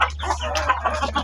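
Pet chickens clucking and murmuring near the listener while they peck at coconut, a steady run of short soft clucks over a low constant hum.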